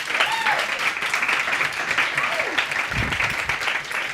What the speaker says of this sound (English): Let's give a round of applause to Professor Tulloch and Professor Stone for putting this together for us